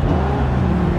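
A Dodge Challenger's engine revs in the racing game Forza Horizon 2, a loud, steady low rumble that holds for the whole second with no talk over it.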